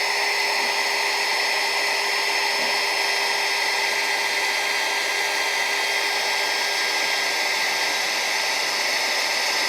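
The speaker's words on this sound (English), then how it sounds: "I'll drill me a couple holes" A power drill bores holes through metal while a saw is being modified, holding a steady, high, whining motor drone at constant loudness for about ten seconds, with no talking.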